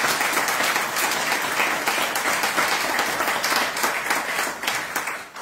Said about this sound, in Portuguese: para a Cláudia Silva e para o Zé Lino, uma grande salva de palmas.